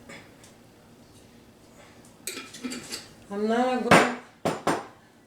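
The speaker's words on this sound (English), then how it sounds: "I'm going to go ahead and stir, mix it." A spoon stirring and scraping lasagna sauce made from three jars in a metal pot, with a few sharp metallic clinks and knocks toward the end after quieter, steady stirring.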